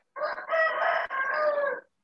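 A rooster crowing nearby, one drawn-out cock-a-doodle-doo with a brief break in the middle, fairly loud and clear with no voices over it.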